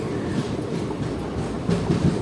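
Onboard the Howrah–Jamalpur Kaviguru Express, the crowded train rumbles along with a steady low roar and faint rhythmic wheel clatter, close and continuous.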